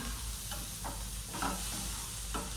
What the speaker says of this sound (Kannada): ನಾನು ಫ್ರೈ ಮಾಡ್ಕೊಂಡಿರೋ ಪನ್ನೀರ್ ನಾ ಐ ಮೀನ್ ಶಾಲೋ ಫ್ರೈ ಮಾಡ್ಕೊಂಡಿರೋ ಪನ್ನೀರ್ ನಾ ಇದಕ್ಕೆ ಮಿಕ್ಸ್ ಮಾಡ್ಬೇಕು